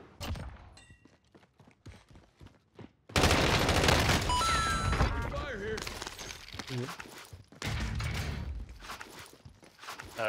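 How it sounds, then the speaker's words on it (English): Gunfire in the Warzone battle royale: rapid bursts of automatic shots ring out alone for several seconds, with quieter scattered cracks and footsteps before and a second loud volley near the end. "Shots in town."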